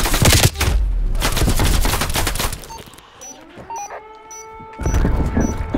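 Rapid bursts of automatic gunfire from a first-person shooter game, dense and loud at first, then thinning into scattered shots, electronic game tones and a final flurry of firing.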